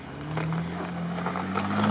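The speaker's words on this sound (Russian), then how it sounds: "Дизельный мотор, не знаю какой." A diesel engine on an off-road vehicle on ice idles with a steady low hum and faint rising pitch, continuous and fairly close, without any voices.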